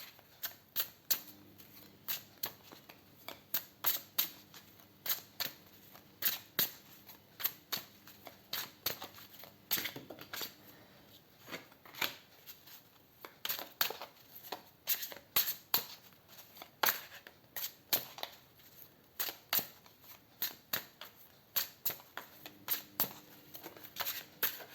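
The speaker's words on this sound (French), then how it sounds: "On va juste tirer quelques cartes histoire d'avoir un aperçu un peu plus global sur ce changement" Tarot cards are shuffled and drawn, giving close, dry, papery riffles and sharp snaps that come in irregular bursts against a quiet room, no one speaking.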